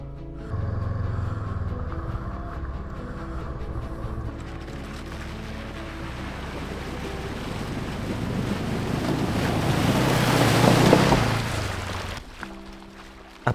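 Two motorcycles ford a river in Mongolia, one after the other: a continuous rush of water and engine noise swells toward a loud surge, then drops off abruptly near the end, with heavy wind buffeting throughout.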